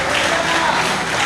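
Church congregation clapping for the Lord in a Brazilian Portuguese service, continuous crowd applause with some voices blended underneath.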